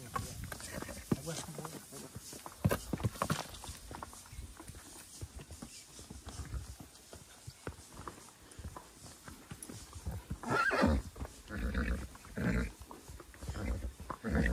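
Hooves of a horse and a mule clip-clop along a rural mountain trail, irregular steps close by with people talking over them.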